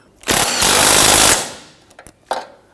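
A power tool drives a control arm bolt on a 2011-2015 Kia Sorento, giving one loud, close, rattling burst of about a second that tapers off, then a few brief follow-up clicks and a short final jolt.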